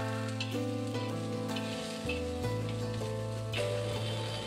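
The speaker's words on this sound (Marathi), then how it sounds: "आणि त्यात थोडं जिरे टाकूया।" Cumin seeds sizzling and frying in hot oil with masala for a village-style spicy crab curry, a steady close crackle lasting throughout with harmonic hum beneath and no talking.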